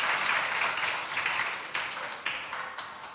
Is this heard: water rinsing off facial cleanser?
no